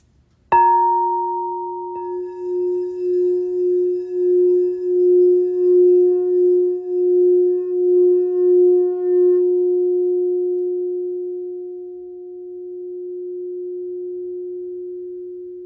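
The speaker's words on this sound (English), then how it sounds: "listen to the vibration, listen to the bowl sing" A singing bowl is struck once and then rings on as a long, pure sustained tone. The tone slowly pulses and wavers as it fades over about fifteen seconds, heard alone.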